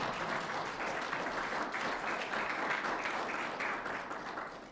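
An audience at a history lecture on Britain's defence in 1803–1815 applauds to welcome the speaker on his birthday, a full, even roar of clapping that holds steady and then begins to fade near the end.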